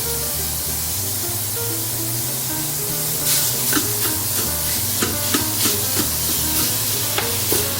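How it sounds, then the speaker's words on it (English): Ground beef browning with a pinch of salt in an Instant Pot on saute mode, a steady close sizzle joined midway by repeated stirring scrapes and clicks. "So we're going to brown this meat in the saute mode of the Instant Pot."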